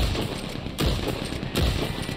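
Two sharp, loud gunshots from Red Dead Online ring out about three-quarters of a second apart over a steady, busy game ambience.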